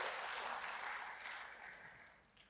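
Steady applause from a church congregation of many hands, fairly soft and distant, gradually fading over a couple of seconds.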